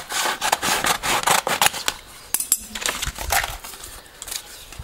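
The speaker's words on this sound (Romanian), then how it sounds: "Pentru stopul de marșarier am să tai la fel o bucată de folie." A knife cuts and scrapes through a piece of transparent film for a Dacia Logan reversing tail light, making a rapid series of short, dry rasping strokes close up. One sharp click breaks in midway.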